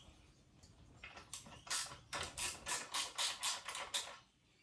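A ratchet wrench with an extension loosens the 13mm top oil tank bolts on a Harley-Davidson Rocker C, giving a quiet run of about ten rapid, evenly spaced clicks after some softer mechanical fumbling.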